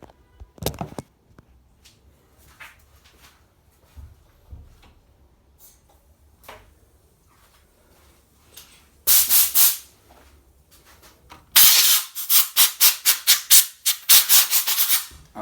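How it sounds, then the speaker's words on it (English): An air blower shoots dust out of an opened PS4 console in loud hissing bursts, first a steady blast, then a rapid pulsing series of short gusts, after quieter scraping and handling noises. "Alright, I'm gonna blow it out of dust"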